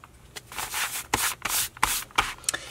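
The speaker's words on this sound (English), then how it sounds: "I'm just going to wipe away any excess." Excess sticky adhesive wiped off paper journal pages by hand, heard as a series of short, close, dry rubbing strokes separated by brief pauses.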